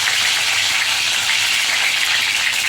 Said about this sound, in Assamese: প্ৰথমতে ভাজি ল'ম।